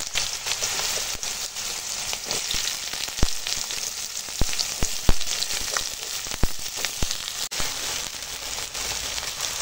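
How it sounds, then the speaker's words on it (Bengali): Chopped greens dropped into hot oil, a busy crackling sizzle like light rain that runs throughout, with sharp pops and spatters scattered on top and no voices. "দিয়ে দেবো তেলের উপর হুপি।"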